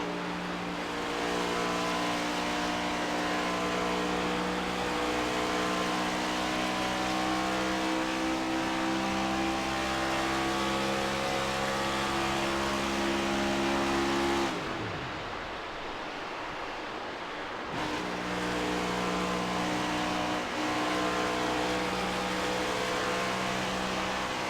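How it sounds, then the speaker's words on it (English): Race car engine in a racing video game drones steadily with harmonic buzz, then cuts out to save fuel for about three seconds as it goes through turns three and four at Kansas Speedway, before roaring back up. "you'll hear as we go into turns 3 and 4, his engine cutting out, which he's trying to conserve fuel the best that he can"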